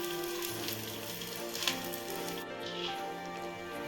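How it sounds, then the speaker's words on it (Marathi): Charoli nuts roasting in a pan, a soft steady sizzle with faint crackle and a brief tap midway, quiet and continuous. "चारोळी आहे ती पण बघा भाजून घ्यायची आहेत"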